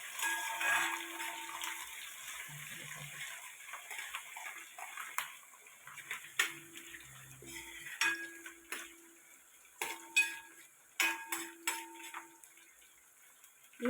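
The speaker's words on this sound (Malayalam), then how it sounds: "വെളുത്തുള്ളി ആഡ് ചെയ്ത് ഒന്ന് നന്നായി ഇളക്കി കൊടുക്കാം." Faint metal spoon clinks and scrapes against a pan as garlic is stirred for gooseberry pickle, with irregular taps spaced through a quiet kitchen.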